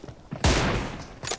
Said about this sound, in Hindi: कुछ M24 लेके आ गए, कुछ अभी भी M4 चला रहे या AR जो भी गन है।